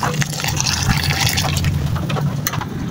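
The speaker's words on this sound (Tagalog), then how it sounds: "pwede nang buhusan ng mainit na tubig" Hot water is poured over snails (kuhol) in a pot, a continuous splashing, gurgling pour with a steady low liquid tone and occasional brighter splashes, close up and without talking.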